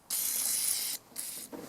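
PB Blaster penetrant sprayed onto a rusted, frozen throttle linkage on a pressure washer engine: two close hissing aerosol bursts, the first long and the second shorter, then a softer rubbing sound.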